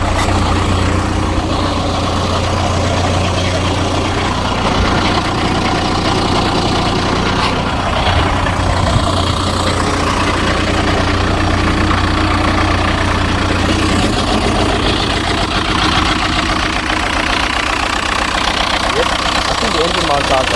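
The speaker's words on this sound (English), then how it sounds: "I'm just gonna leave it to warm up for a while" A modern car engine idles steadily and loudly up close after its first start in nine years, with a constant low rumble and some talking mixed in over it.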